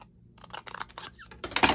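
Scissors snip through stamped paper circles for a papercraft story kit, giving short irregular crisp cuts close by that grow louder and denser toward the end, with no talking.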